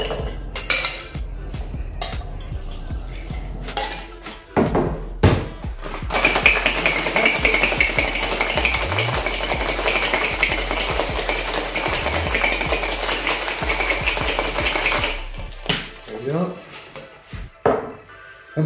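An espresso martini with ice is shaken hard in a cocktail shaker, a loud, continuous rattling clatter of ice lasting about ten seconds, with a clink or two before and after and a voice speaking briefly.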